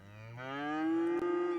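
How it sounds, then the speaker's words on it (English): A single cow gives one long, rising moo in the farming area of the city-building game Cities: Skylines. It is clear and close, with nothing else behind it. "Cows and Highland cows."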